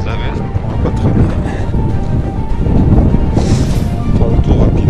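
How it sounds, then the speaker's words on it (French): Strong, cold wind buffets the microphone outdoors, making a loud, continuous roar with gusty swells, while a person talks through it. "il y a du vent et il pèle quand même un peu"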